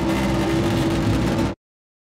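A toothbrush rattled inside a metal filing cabinet, processed with EQ and distortion into a sci-fi tank motor, a gritty, steady mechanical buzz, loud and close, that stops abruptly after about a second and a half.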